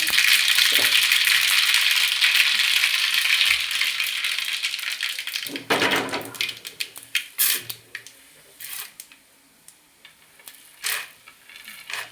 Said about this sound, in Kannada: ಸಾಸಿವೆ ಒಗ್ಗರಣೆ ಹಾಕ್ತಾ ಇದ್ದೀನಿ.